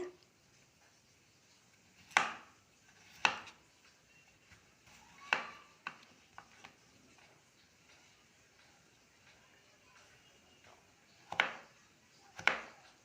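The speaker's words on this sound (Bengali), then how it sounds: "আমি একটা আলু ছাড়িয়ে নিয়ে এবার পিস পিস করে কেটে নিচ্ছি" A knife cuts a peeled potato into thick pieces on a board, giving a handful of separate, soft knocks spaced irregularly, with long quiet gaps between them.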